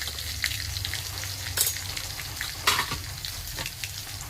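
Onion and tomato masala sautéed in a pan, with a continuous close frying sizzle and several sharp scraping stirs of the spatula against the pan.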